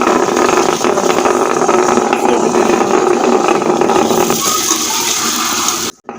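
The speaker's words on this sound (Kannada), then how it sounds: "ನೋಡಿ ಇದು ಚೆನ್ನಾಗಿ ಗ್ರೈಂಡ್ ಆಗ್ತಾ ಉಂಟು" A mixer grinder whirs loudly and continuously while grinding spices, onion and masala for a village-style stingray fish curry, a dense rattling drone that steadies, then stops abruptly just before the end.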